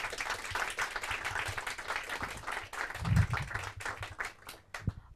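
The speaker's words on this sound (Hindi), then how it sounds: "आप सबसे मैं अनुरोध करती हूँ कि आप तालियां बजा के हमारी टीम का स्वागत करें।" Teachers, students and spectators at a school Hindi competition clap to welcome a team, with a burst of applause rising and fading alongside a few voices.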